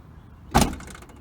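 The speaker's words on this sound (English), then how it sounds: "I'll show you how the door shuts." A single solid thud of an early Jeep Cherokee door slamming shut after a door pin replacement, close and sharp, followed by a brief rattle.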